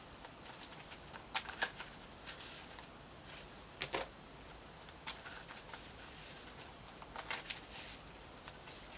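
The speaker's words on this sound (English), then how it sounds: "Let's pull some more cards." Tarot cards are shuffled and pulled in a quiet room, making soft papery riffles and flicks in scattered bursts, faint and close with no voices.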